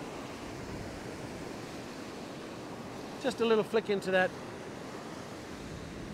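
Waves breaking on a beach during a fishing session, a continuous soft surf rumble with wind, and someone briefly talking over it partway through.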